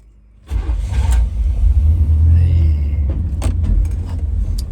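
Chevrolet C10 Suburban square body engine starting up and running on a test drive, a loud low rumble kicking in after a quiet moment and holding steady with slight revving, close to the listener.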